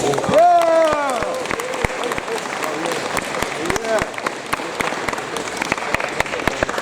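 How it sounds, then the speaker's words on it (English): Audience applause at the RDF 2021 award ceremony as an Under-16 regional MVP is honoured, steady clapping from a crowd with a few whoops and cheers near the start, continuing for several seconds. "A big round of applause to him."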